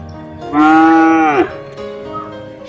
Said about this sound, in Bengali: ওই দেখুন গরুটা আবার ডাকছে